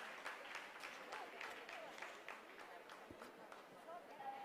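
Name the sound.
scientists applauding during Chandrayaan 3 lunar landing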